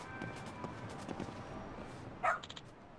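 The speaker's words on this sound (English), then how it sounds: "What's with the dog?" A dog in a detective video game lets out one short sharp bark near the end, after faint footsteps and soft game ambience, with no talking.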